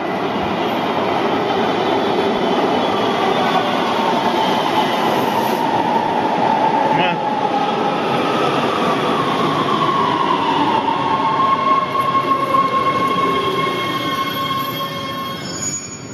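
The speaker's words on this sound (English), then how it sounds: "Here's the train!" A Los Angeles subway train arriving at the platform, loud continuous rumble with long, high-pitched wheel squeals sliding across the pass, close and sustained for the whole stretch.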